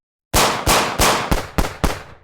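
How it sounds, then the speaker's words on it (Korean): Rapid successive gunshots in a horror audio drama, six loud sharp blasts in quick, slightly irregular succession, each ringing briefly before the next, ending in a short fade. "뒤이어 연달아 총성이 들린다."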